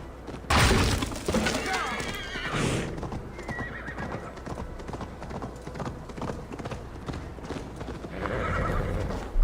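Hooves of a horse galloping in Assassin's Creed Valhalla clatter in a steady, loud rhythm, with a whinny and a brief crash near the start and game dialogue voices over the running hoofbeats.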